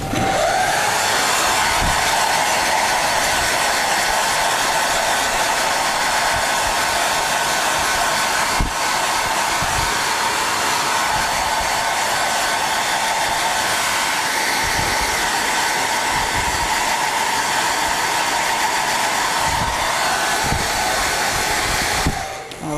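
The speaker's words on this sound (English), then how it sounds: "we dry with the hair dryer just to speed up our project." A hair dryer blows steadily and loudly for a long stretch, a constant whooshing roar with an even pitch and a few faint clicks.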